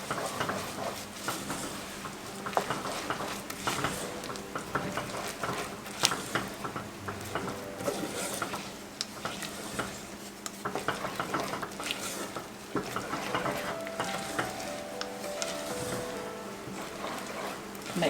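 Oats being stirred into a thick chocolate peanut butter mixture for old-fashioned boiled cookies, with repeated scraping, patting and clacking of a spoon against a pot at close range, irregular and continuous.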